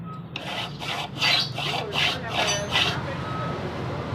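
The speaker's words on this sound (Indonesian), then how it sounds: "pakai amplas di kaca ya" Rhythmic scraping of sandpaper laid on glass as a flat surface, sanding a motorcycle part, about seven strokes in a steady rhythm, close up with a low background hum.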